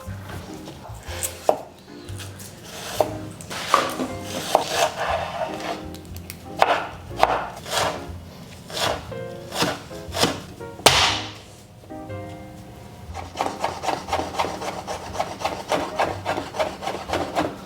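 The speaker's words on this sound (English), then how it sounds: "Now, we take our shallots and we cut them up." Shallots are chopped with a knife on a wooden board, with crisp, uneven knife strikes close by, then a fast, steady run of rapid chopping near the end and no voices.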